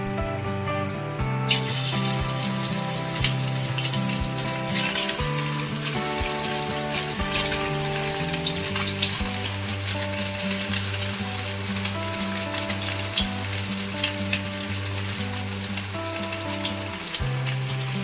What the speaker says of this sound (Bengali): আমি যে ম্যারিনেট করা চিকেনগুলো দেখালাম সেগুলো ভেজে নেব